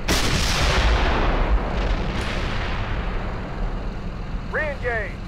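A tank main gun fires in the Steel Beasts video game, giving one loud, close blast that rolls off into a long decaying rumble, with a brief electronic beep sounding near the end.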